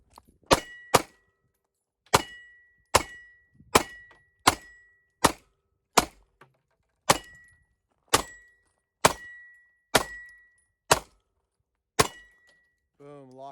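Eleven sharp, loud gunshots from a Glock 43X MOS pistol crack out one at a time at an uneven pace, each a sudden bang with a short decay, followed by a faint voice at the end.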